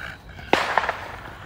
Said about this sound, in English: Yep, fireworks. They still pop the fireworks.